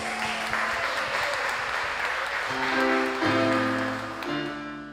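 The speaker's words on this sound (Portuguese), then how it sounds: "Você pode aplaudir Jesus?" A church congregation applauds during an online service, a thick wash of clapping with musical tones and a sustained chord rising underneath before it tapers off.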